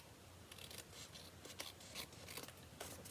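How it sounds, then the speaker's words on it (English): Scissors snip through paper for a handmade card, a few quiet, separate crisp cuts spaced apart, heard close in an otherwise hushed room. "So let's take our scissors, and now is a good time"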